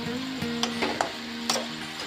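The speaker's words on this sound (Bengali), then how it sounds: "এবার সব কিছু খুব ভালো করে মা নেড়ে নিচ্ছে" Red amaranth greens (lal shak) are stirred in a sizzling pan, with a soft continuous fry under a few sharp scrapes and clinks of the spoon against the pan.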